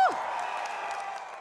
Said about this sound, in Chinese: 一句话引来台下热烈掌声